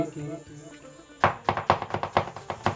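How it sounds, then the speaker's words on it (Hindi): An onion is finely chopped with a knife on a board for restaurant-style pindi chole. After a quiet opening, about eight crisp, close chops land in a quick, uneven rhythm. "प्याज भी आपका बिल्कुल बारीकी से फाइन चॉप हो जाए"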